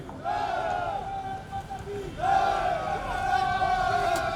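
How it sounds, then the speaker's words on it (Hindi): A violent mob chanting slogans against the administration as it advances during a police mob-control drill, a sustained crowd roar with rising chant-like tones, loud and continuous, swelling after a brief dip. "हिंसक भीड़ का एक समूह लगातार प्रशासन के विरुद्ध नारेबाजी करता हुआ आगे बढ़ रहा है"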